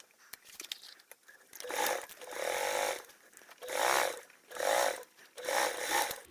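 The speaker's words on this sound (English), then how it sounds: "we're going to sew that down with a 3/8 seam allowance" A sewing machine stitches a 3/8-inch seam allowance along a fabric edge, right sides together, while making a hanging toiletry bag; four loud, sustained bursts of whirring stitching separated by short pauses, with no talking.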